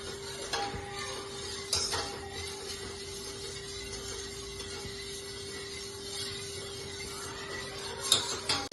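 Cotton seed milk mixed with coconut milk and turmeric being stirred in a pot, a quiet continuous swirl with occasional light clinks of the spoon against the vessel.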